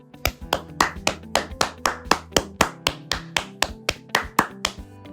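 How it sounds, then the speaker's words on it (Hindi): Rhythmic clapping along from an audience at a Hindi AI-challenge session, a steady series of sharp, evenly spaced claps, close and clear with no talk. "चलिए सब लोग मेरे साथ ताली बजाइए।"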